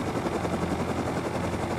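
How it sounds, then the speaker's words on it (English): Helicopter in a video game, a steady, dense rotor thrum and engine roar that holds level throughout, loud and close with no voices over it. "helicopter."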